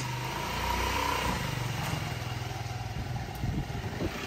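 A motorcycle pulls away, its engine putting out a low, pulsing idle and throttle rumble at moderate distance, steady throughout the short stretch with no voices.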